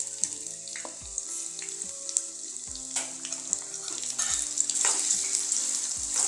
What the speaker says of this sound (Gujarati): બટેકા બધા આપણે તેલની અંદર નાખી દઈશું.